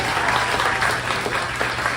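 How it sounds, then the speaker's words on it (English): An audience applauds Sabrina McGinley at a community event, with dense, steady clapping that holds at an even loudness throughout, sounding fairly close and full. "A round of applause for Sabrina McGinley."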